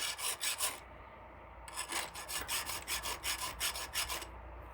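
A file rasps rust off the feed screw of an old sled in a workshop, sounding as repeated close, rhythmic scraping strokes with a brief pause before a quicker run of strokes.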